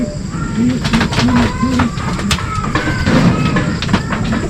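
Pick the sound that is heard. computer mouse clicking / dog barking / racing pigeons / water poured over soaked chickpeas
racing pigeons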